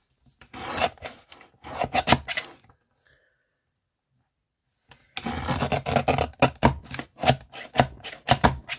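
A paper guillotine trims the edge of a sheet for an envelope folio, giving two bursts of dry rasping, chopping strokes separated by a couple of seconds of silence, close and fairly loud.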